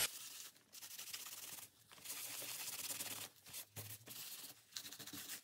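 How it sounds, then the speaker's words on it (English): Faint, close scrubbing of a finger or rag over a journal page to lift paint splatters, coming in short bursts with brief pauses between strokes. "So I'm thinking I need to rub all of this off."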